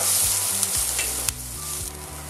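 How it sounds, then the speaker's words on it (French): Onion and fresh thyme browning in a frying pan alongside bay leaf, a loud continuous sizzle with a couple of quick stirring clicks, very close. "Très important, colorer un peu l'oignon."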